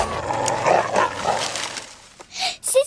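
A cartoon dog in Charlie and Lola gives a few whimpering, yelping sounds, then two short sharp barks near the end, fairly close and loud.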